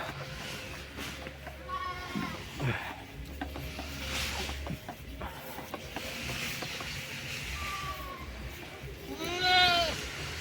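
Goats bleat several times at varying distances amid outdoor ambience, with people talking and some rattling mechanical noises.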